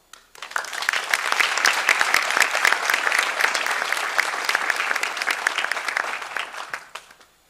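Applause at a graduation ceremony, a crowd clapping briskly and continuously after a sharp start, holding steady before fading out at the end.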